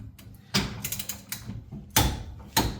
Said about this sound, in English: Okay, time to get this fully tightened down.